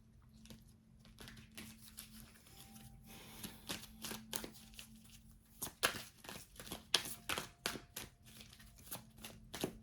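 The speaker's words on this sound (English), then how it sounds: "I want to pull from these indigo cards" Indigo oracle cards being shuffled by hand, a close, quiet run of crisp riffling and flicking strokes in irregular bursts, with no talk over them.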